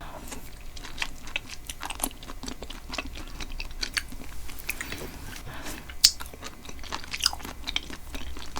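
Close, wet chewing of soft, chewy grape-flavored jelly pearls from a bubble tea drink, with irregular squishy bites and small crunchy clicks, no talking.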